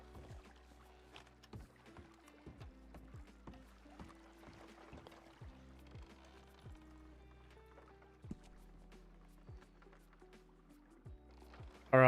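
A boat is rowed through water in a video game, with soft rhythmic paddle strokes and gentle splashes repeating at a steady pace, faint and quiet, with no talking.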